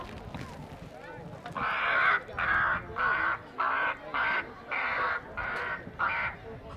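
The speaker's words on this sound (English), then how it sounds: "And then a rook." A recorded rook call played through a bird-scaring system at Manchester Airport, giving a series of about eight loud, harsh caws in a steady rhythm, with someone talking briefly beforehand.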